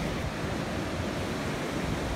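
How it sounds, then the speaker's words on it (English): Ocean surf washing onto a dark, run-down beach at night in Kenya, a steady, continuous roar of waves without pause, moderately loud and alone with no voices. "You can hear the ocean."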